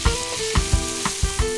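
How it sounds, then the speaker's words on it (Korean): Fatty blackthroat seaperch pan-frying, a steady sizzle with periodic soft pops and stirring knocks, close and moderately loud with no voices. "워낙 지방이 많은 생선이라 살짝 튀기듯이 구워내면 고소한 감칠맛이 극에"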